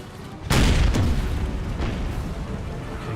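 Artillery guns fire in a Napoleonic-era battle in Empire: Total War, a sudden deep boom at about half a second followed by a second blast and a sustained rumbling roar of battle.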